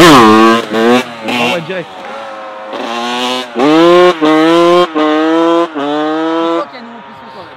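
A 1997 Honda 125cr motorcycle engine revs loudly in repeated sharp rising and falling bursts, with a slipping clutch, close by, as someone speaks briefly over it.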